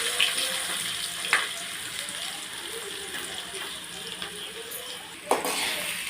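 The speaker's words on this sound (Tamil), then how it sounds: "வெங்காயம் நல்லா வதங்கிக்கும்." Onions sautéing with fenugreek and pepper in a frying pan, a soft steady sizzle with a few brief clinks and scrapes of stirring.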